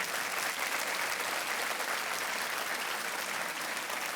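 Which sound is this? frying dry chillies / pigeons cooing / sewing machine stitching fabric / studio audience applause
studio audience applause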